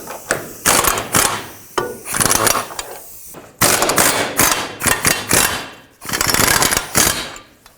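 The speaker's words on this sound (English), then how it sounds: "And now, because it's supported, I can take off these two 21mm bolts." A ratchet wrench loosens 21mm subframe bolts on a 2007-2009 Saturn Aura, sounding as loud, close bursts of rapid clicking separated by short pauses as the handle swings back and forth.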